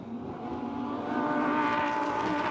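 Lamborghini Super Trofeo race cars at Sebring at about 160 mph approaching a braking zone: a sustained high-pitched engine whine with harmonics rising slightly in pitch, steady and fairly distant, no voice.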